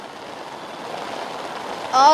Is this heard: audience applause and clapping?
no